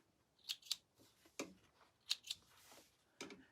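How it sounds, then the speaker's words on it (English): Scissors trimming loose sewing threads on a canvas tote bag, a handful of quick crisp snips in irregular pairs, close and fairly quiet. "Trim those threads."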